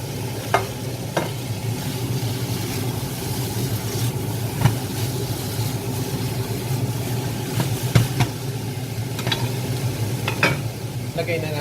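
Chicken with mushroom and onion sizzling and being stirred in a stir-fry pan, a steady close frying hiss broken by scraping and clinks of the spatula.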